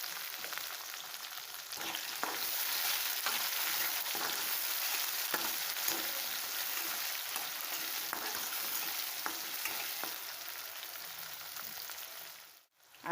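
Onion and tomato fry in a hot pan with a steady, close sizzle and crackle, broken by faint stirring taps before a clatter near the end.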